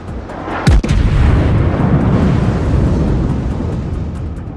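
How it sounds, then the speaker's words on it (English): A warship in World of Warships fires a salvo of HE shells, one sharp heavy boom up close followed by a long rumbling roll that slowly fades under steady background noise. "I switched to HE for one salvo at the Hatsuharu"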